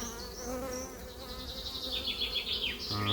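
Honeybees buzz around an opened hive, a close, wavering drone with individual bees whining past and rising in pitch near the microphone.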